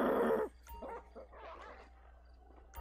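A dog in a FiveM GTA roleplay game gives a loud burst of barking, then a run of softer yips and whimpering barks, close and alone.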